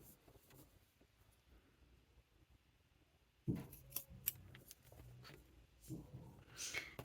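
Sharp shears snip off extra fabric on a satchel being sewn, a few quiet crisp cuts and rustles after a near-silent start.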